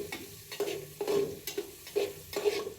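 Potatoes and onions frying in oil for khichdi, stirred in a pan: steady close sizzle with repeated scraping stir strokes about every half second, no talking.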